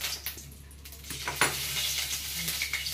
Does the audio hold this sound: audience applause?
no